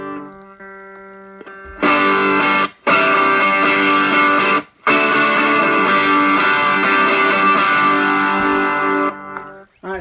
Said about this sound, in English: the DS1 in this case was just a volume boost